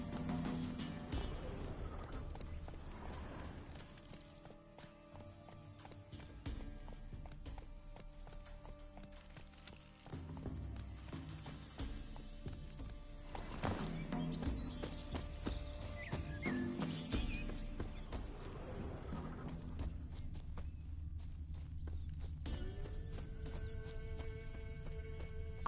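In The Witcher 3, a horse gallops steadily across open ground, hooves clopping in a continuous rhythm amid ambient game sounds, with an occasional whinny mixed in.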